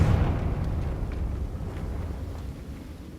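A Confringo blasting spell explosion in Hogwarts Legacy, a deep, rumbling burst that hits loud at the start and rolls off over a few seconds, heard alone.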